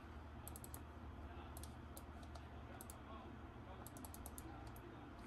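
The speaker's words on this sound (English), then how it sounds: "have to type this key one by one." Computer keyboard typing a recovery key, clusters of faint quick key clicks in short bursts over a low steady hum, quiet and close.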